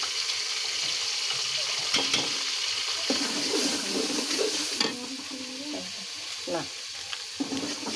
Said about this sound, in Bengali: তেজপাতা লবঙ্গ এলাচ, তার সাথে হলো হলুদ। খিচুড়ি রান্না করব।